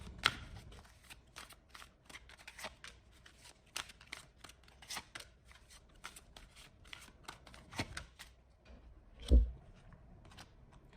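Tarot cards shuffled close up, a steady run of quick papery riffles and flicks across the whole stretch, ending with one heavier soft thump near the end; no voices.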